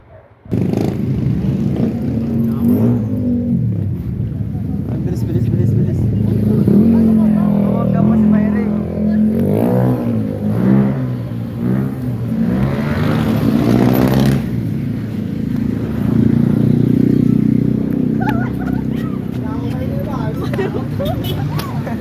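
A motorized tricycle's engine runs steadily nearby, its loud rumble rising in spots, while a voice talks over it throughout.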